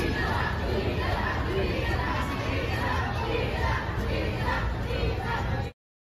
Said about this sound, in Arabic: كان الجمهور خارج مكان العرض يهتف باسم ليسا